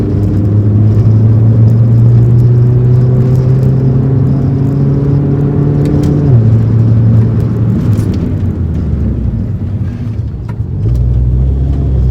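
An R56 Mini Cooper S accelerates on the road, its engine droning loud and steady from inside the cabin with rising pitch, gear changes around six and eleven seconds, no talk.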